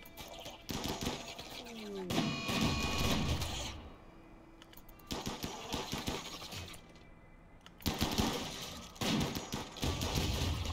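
Bursts of game gunfire and explosions from guns in Rimworld, several loud dense volleys of rapid shots separated by quieter gaps, with some faint tonal background.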